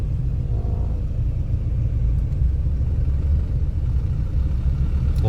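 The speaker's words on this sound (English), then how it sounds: "that's why so heavy traffic in Angeles." Continuous low rumble of heavy road traffic in Angeles City, with car engines droning steadily and fairly loud, close by and without letup, and no voices.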